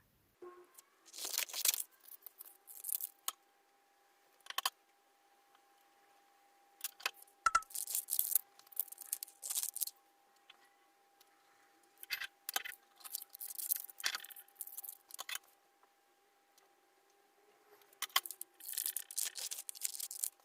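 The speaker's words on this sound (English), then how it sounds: "I'm going to do this 3 more times and then cut it out." Scissors cut out pieces of wax paper for a craft lantern, close and crisp, with repeated short snipping and crinkling bursts separated by quiet pauses and no talking.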